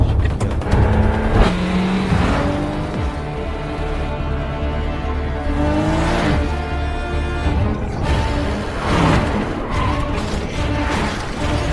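A car accelerates hard and speeds away during a gangster film chase scene, a loud continuous engine roar with rising revs layered over a dense background score.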